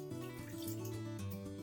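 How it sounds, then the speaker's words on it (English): About a quarter cup of water is poured into the bottom of a crock pot for a sirloin tip roast, giving a brief, close, continuous splash and trickle. "I've got about a 1/4 cup of water that I'm just going to put in the bottom as well"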